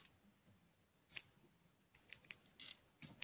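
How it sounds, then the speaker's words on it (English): Small scissors snip embroidery thread in a quiet room, a single crisp cut followed by a quick run of four or five close, faint snips. "I'm going to get my scissors and go"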